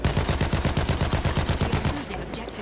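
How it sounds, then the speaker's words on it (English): Anti-aircraft cannons in the Battlefield 1 video game fire a fast, steady string of heavy booming shots for about two seconds, loud and close, before the firing stops and a dull rumble is left. "look at these two people trying to shoot him down with the AA cannons"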